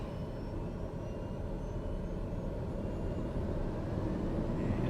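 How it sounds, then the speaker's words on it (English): In Microsoft Flight Simulator, an aircraft engine holds a steady, low rumbling drone that swells slightly toward the end as the throttle comes up, with no voices over it. "Give it some throttle."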